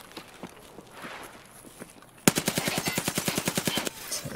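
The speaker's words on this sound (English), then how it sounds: "Wait, someone's shooting here, hold on." Gunfire from the video game Escape from Tarkov: a sudden rapid automatic burst of around fifteen evenly spaced shots follows a couple of seconds of quieter scattered sounds, clear and fairly close.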